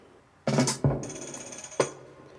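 A programmed drum roll built from three samples, a percussion hit, a hi-hat and a kick, layered together: a few sharp, punchy electronic hits in quick succession, close and fairly loud, with a bright sustained shimmer between them.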